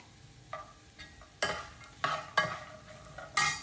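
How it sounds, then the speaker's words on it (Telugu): Nuts and raisins roast in a pan over a low flame, stirred in sharp scraping strokes that come in irregular bursts of a few each, set over a soft steady sizzle, close and fairly loud. "నట్స్ని సిమ్లో దోరగా వేయించుకున్నానండి. ఇప్పుడు కిస్మిస్లు కూడా యాడ్ చేస్తున్నాను ఈ నట్స్కి."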